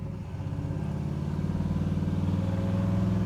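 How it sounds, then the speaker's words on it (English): The big block V8 of a 1967 Chevrolet Impala idles close by, a deep, loud, lumpy rumble with a steady pulsing beat that swells slightly, with no one speaking. "You can tell there's a big block under the hood of this baby."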